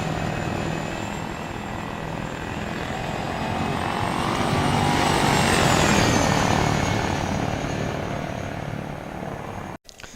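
An Apache helicopter in the military video game Arma 3 drones steadily and loudly, its rotor and engine roar swelling slightly toward the middle before cutting off abruptly at the end.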